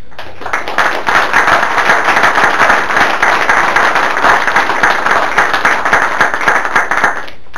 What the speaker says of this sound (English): certainly want to lead in a round of applause for a monumental day